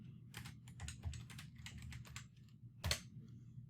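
Computer keyboard typing in quick clustered keystrokes, close and clear, ending with one sharper, louder key strike; no speech.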